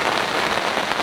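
Steady rain falls in France at Le Val Doré, a dense, even hiss of drops on surfaces that runs unbroken and fairly loud throughout, with no voices.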